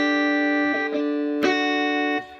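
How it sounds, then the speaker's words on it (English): A sustained, buzzing overdriven guitar voice from a Yamaha EZ-30 keyboard holds chords, with a few short changes in attack, then fades at the end. "Overdrive guitar."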